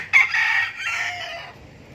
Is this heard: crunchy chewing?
no